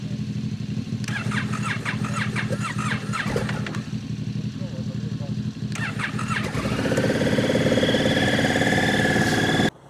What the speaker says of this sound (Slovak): Motorka tu stála a môžeme si predviesť zimný štart.